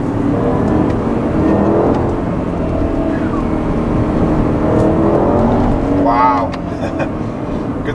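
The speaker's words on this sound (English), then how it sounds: "Oh yeah, got some wheel spin." A 2011 Porsche Panamera Turbo accelerates hard with wheel spin, its engine roar and tire noise loud and steady from inside the car, with a brief higher whine near the end.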